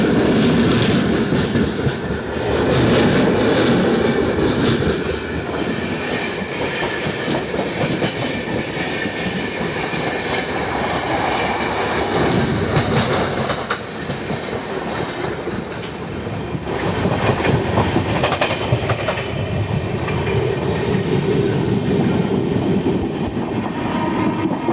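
The Mumbai Hyderabad SF Express runs on its rails with a loud, steady rumble and rhythmic clickety-clack of wheels, heard from inside the moving train for the whole stretch.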